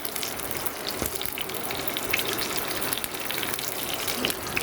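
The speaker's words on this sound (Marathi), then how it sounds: "लसूण ठेवली ना की तेल टाकायचं चम्मचभर मी तेल टाकलेलं आहे" A spoonful of oil poured over garlic in a very hot pan on a wood-fired stove, a dense continuous hiss and crackle close by, with no talk.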